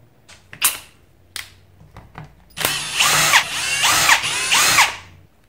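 A cordless power tool whirs loose screws from an 18-volt NiCad Milwaukee battery pack in several close, loud bursts, after a few sharp clicks and taps of handling; no one speaks.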